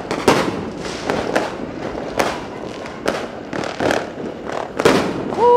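New Year's Eve fireworks in Makassar crackle and bang in a loose series of sharp bursts, some near and some farther off, over a steady outdoor hiss with faint voices in the background.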